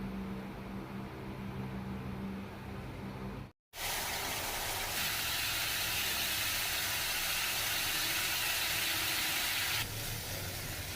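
Potatoes and pointed gourd frying in a pan, a steady loud hiss and sizzle that cuts out briefly and then returns even stronger, continuing without any voices.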